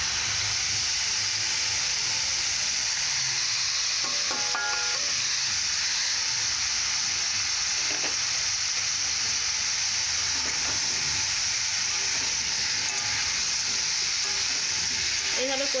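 Fried vegetables for a bottle gourd dish are stir-fried in a pan with a steady, close hiss and sizzle that runs throughout. Occasional faint scraping stirs sound under the frying, and no voices are heard.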